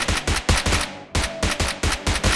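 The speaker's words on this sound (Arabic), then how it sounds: "انا ضربت عليه رصاص ياما" Rapid bursts of gunfire from a shooter video game, a string of about ten sharp shots in a steady rhythm with one brief gap, loud and close with no talking over them.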